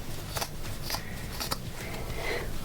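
Scissors cut through thrifted clothing in short, crisp snips that come in an uneven rhythm, close up and moderately quiet, with no talking.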